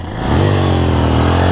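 A KTM motorcycle engine revved hard on the throttle, rising quickly from a low idle into a loud, sustained, steady roar close to the listener.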